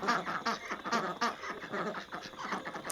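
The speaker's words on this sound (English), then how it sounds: "And a bunch of noisy ducks." A flock of ducks quacks noisily at dusk, a busy overlapping chorus of harsh calls at middle distance, steady throughout with no talking.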